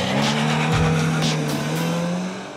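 A car pulls away hard after a countdown, its engine droning loud and close with a rising note, tyres scrabbling briefly, and the sound steady until it eases at the end.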